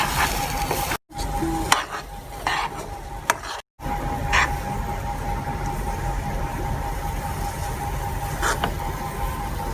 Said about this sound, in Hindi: भुनते हुए नाल दी नाल आपां इहनूं हिलाई जाना।